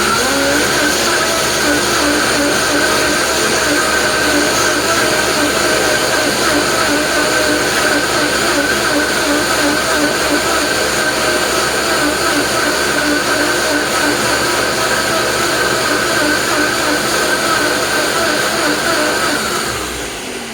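Ninja and Vitamix blenders running together on high while blending okra, producing a loud, steady motor roar with a constant whine that holds for about 20 seconds and then drops off at the end.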